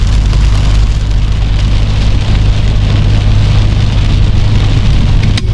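Heavy rain pours down during the rainy season in Fang, Thailand, a loud, dense, unbroken hiss of water hitting surfaces close by, with no one talking.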